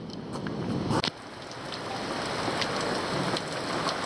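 Steady heavy rain hisses throughout, with a brief dull knock near the start.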